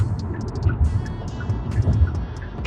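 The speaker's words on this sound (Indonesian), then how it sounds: "Suara ban masih tetap masuk ke dalam" Steady tire and road rumble heard from inside a 2021 Hyundai Palisade driving over a broken, rough road, a low continuous drone with irregular bumps and thumps, fairly loud and with no one talking.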